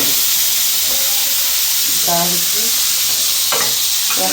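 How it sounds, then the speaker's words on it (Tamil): Dried red chillies sizzle in hot oil for tempering a lentil dish, a loud, dense, continuous frying hiss up close with faint clinks and brief sounds on top. "காஞ்ச மிளகா போட்டு கொஞ்சம் அடுப்பை ஏற்றி வச்சுக்கோங்க. ஏற்றி வச்சுக்கிட்டு தாளித்து"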